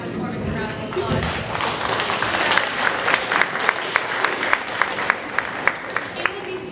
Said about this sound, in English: Please give half the performance a round of applause.